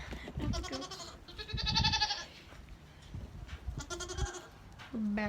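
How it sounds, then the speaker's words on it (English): Several farm goats bleat near and at moderate loudness, their wavering calls spread across a few seconds with quiet pauses between them. No one speaks. "We're back at the goats."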